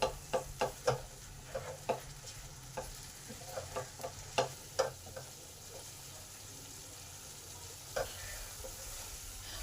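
Spice paste with ground tomatoes being stir-fried, with a soft background sizzle broken by scattered sharp scrapes and taps of a spoon against the pan, heavier near the start and sparse later.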